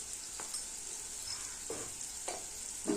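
A steady, soft sizzle of ground spices frying in a pan, with a few scraping stirs of a spoon at irregular intervals.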